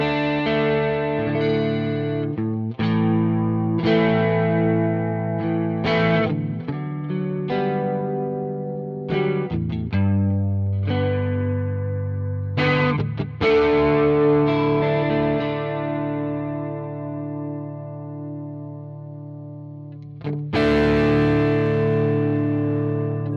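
An electric guitar runs through a Quad Cortex with two chorus settings combined for a deep, swirling modulation, chords and single notes ringing out with slight drive, no voices.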